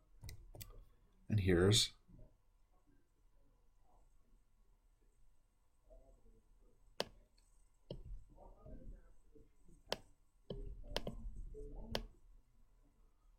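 Sharp, isolated computer mouse clicks, several spaced a second or two apart, close and crisp amid a quiet room while someone speaks briefly between them.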